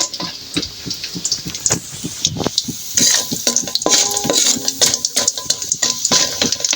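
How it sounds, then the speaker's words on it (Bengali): Pumpkin lentil dumplings (bori) fry in a pan, with rapid, rhythmic scraping stirs over a constant close sizzle, loud and uninterrupted by talk. "বড়িগুলো লাল করে ভেজে নিচ্ছি"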